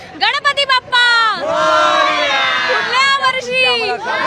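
A festive crowd at a Ganpati procession with a dhol-tasha troupe in Badlapur cheers and shouts loudly, with rising and falling voices and a few short bursts of yelling.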